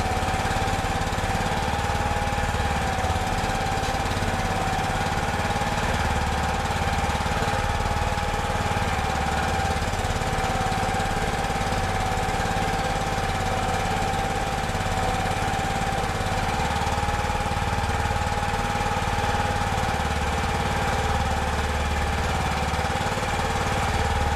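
A small engine runs steadily to power a hydraulic winch mounted on a trailer, a loud, constant droning hum with a faint tonal whine, unbroken and close throughout.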